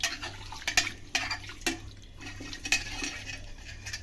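Rice being washed by hand in a bowl of water for kheer, with soft sloshing and a few sharp splashy clicks spaced irregularly, close and fairly quiet.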